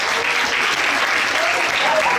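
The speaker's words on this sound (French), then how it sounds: "Ouais, on peut les applaudir" A crowd applauds a volunteer during a card trick performance, steady dense clapping that holds evenly throughout the short moment, with a few faint voices underneath.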